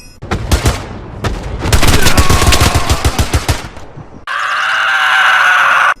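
Rapid, loud, repeated M1 Garand rifle shots crack through combat in the WWII shooter Hell Let Loose for about four seconds, then give way to a steady, noisy roar.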